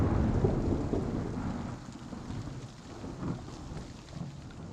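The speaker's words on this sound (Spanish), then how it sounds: "Llueve muchísimo aquí en Rocamadour" Heavy rain pours steadily in Rocamadour, with low rumbling thunder rolling underneath, loudest at the start and easing slightly before swelling again.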